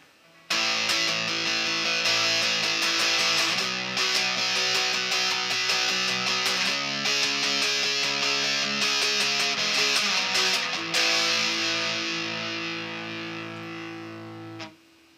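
Electric guitar played through a Boss DS-1 distortion pedal, a heavy, saturated tone with sustained chords and riffs that ring loud and steady, then fade out near the end.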